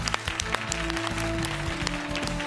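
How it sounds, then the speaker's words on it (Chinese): Studio audience applause welcoming a periodontics doctor from Peking University School of Stomatology onto a televised health program set; steady clapping fills the short stretch with no talk over it. "接下来我们掌声欢迎北京大学口腔医院牙周科张艳玲副主任医师"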